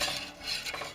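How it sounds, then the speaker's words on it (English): Gravy being stirred in a pan with a utensil, close scraping and swishing strokes in an uneven rhythm over a faint simmer, with no voices. "I'm going to constantly stir until this gets about the thickness I want"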